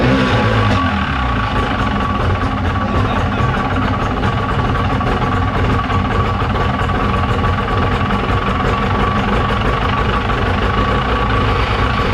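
A formerly seized two-stroke outboard engine runs steadily at a loud, rough idle, a dense continuous drone with rapid low-pitched firing that holds constant throughout, heard close with no voices.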